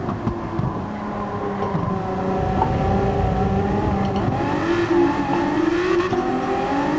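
A modified race car's engine revs and accelerates in the driving game Gran Turismo 7, its rising, shifting engine tone holding steady and loud for several seconds, with no voices.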